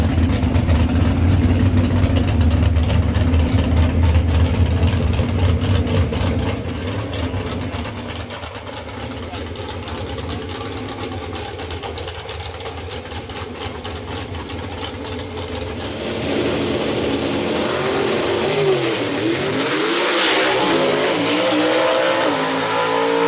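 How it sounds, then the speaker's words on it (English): Gasser-style drag race cars roar loudly at Knoxville Dragway in a Southeast Gassers race, engines blasting down the strip with sustained revving, then a second surge of engine noise as they pass. "Todd Blackwell takes that par race engine and gets to the end first and puts Tony Turner out in first round."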